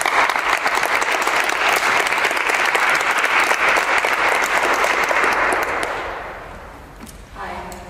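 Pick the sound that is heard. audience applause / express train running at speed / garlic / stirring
audience applause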